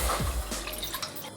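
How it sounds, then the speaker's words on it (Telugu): A cup of water is poured into a wide cooking pot on a stove, making a brief close splash and dripping trickle that quickly tapers off. "ఒక కప్పు వాటర్ వేసుకోవాలి."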